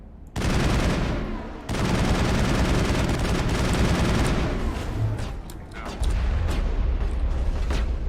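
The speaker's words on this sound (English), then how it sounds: "Let's shoot him." Heavy gunfire aimed at a geth in Mass Effect, sustained dense bursts that drop out briefly and then resume, loud and close throughout.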